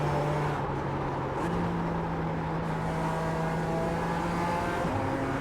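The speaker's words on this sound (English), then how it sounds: "Driving this car around the Nürburgring." A race car laps the Nürburgring in a racing video game, its engine a loud, continuous buzzing drone that steps up through gear changes near the start and the end, with no talk over it.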